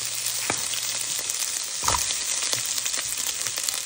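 Chicken barbecue sautés with onion for fried rice, a soft steady sizzle in a pan with occasional scraping stirs, close and without voices.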